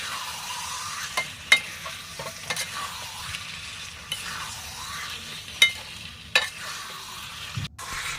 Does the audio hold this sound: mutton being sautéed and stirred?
yes